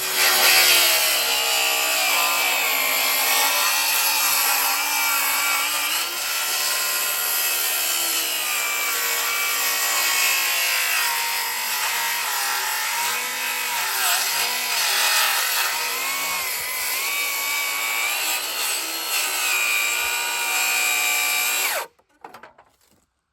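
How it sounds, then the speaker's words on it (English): A power saw plunge cuts through a 24-foot wooden beam, a loud close whine and grinding roar that runs steadily for about twenty seconds before cutting off abruptly. "Gotta be very careful plunge cutting."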